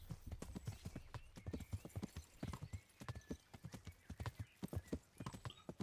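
A horse is ridden in the medieval game Kingdom Come: Deliverance, its hooves clip-clopping in a quick, steady, close rhythm throughout, with no voices.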